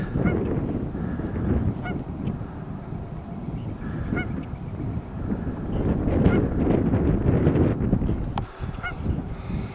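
Geese with their goslings honk repeatedly outdoors, the calls overlapping in a busy, fairly close flock over steady wind rumble on the microphone.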